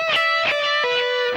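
Electric guitar plays a short solo phrase with string bends, several clear, close picked notes sounding alone.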